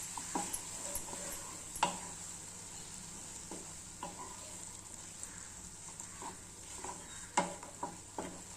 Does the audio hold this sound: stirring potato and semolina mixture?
yes